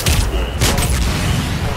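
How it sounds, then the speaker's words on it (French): A small fiery explosion goes off in the video game Mass Effect amid combat, with a loud bursting boom and crackling gunfire-like bursts filling the short stretch, no talking over it. "Petite explosion de feu."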